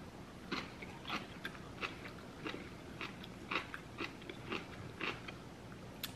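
Spicy kimchi is eaten up close, with crisp crunchy bites followed by steady wet chewing in a regular rhythm of about two crunches per second, quiet and without speech.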